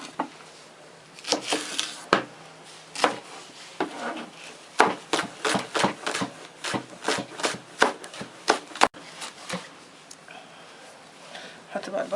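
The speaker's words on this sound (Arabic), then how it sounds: "ونقطع بقى البصل الاخضر بقى" A knife chops green onions on a wooden board for Korean mandu dumpling filling, with rapid, close, irregular bursts of sharp taps, some faster runs and a few pauses between.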